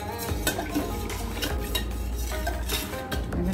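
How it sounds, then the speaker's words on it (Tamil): Whole finger millet porridge is stirred nonstop in a pot, with loud, continuous scraping and knocking of a utensil against the pot in a quick, steady rhythm and no voices. "கை விடாமல் கிண்டணும்"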